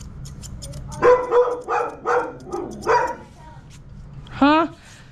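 A golden retriever at a grooming session gives several sharp barks in a quick series, then one longer higher whining yelp a moment later, all against steady low background hum.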